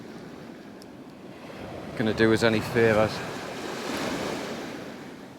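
Sea swell washing against a rocky shore at Beadnell, a steady low rushing surf with wind, someone speaking briefly over it before the waves swell slightly louder.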